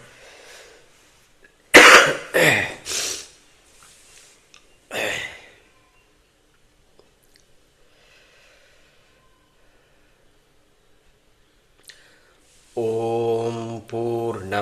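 Several harsh coughs in a quick cluster, loud and close, followed by another single cough, then quiet; a chanting voice begins near the end.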